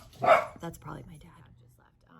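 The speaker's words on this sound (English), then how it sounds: "So if you hear the dogs barking, that's why." A dog gives a single loud bark near the start, followed by a person talking quietly indoors.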